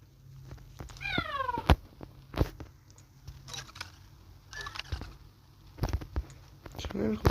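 A video game cat gives a short rising meow near the start, followed by scattered clicks and thuds, with a voice talking intermittently around it.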